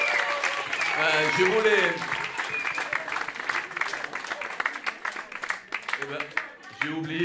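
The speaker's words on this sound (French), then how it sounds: "est-ce que vous pouvez faire des applaudissements bien forts pour Véronica au violon et Rémi qui a chanté pour nous" Enthusiastic audience applause at a concert at the Théâtre du Pont Tournant, dense clapping swelling and fading over several seconds while someone speaks in French over it.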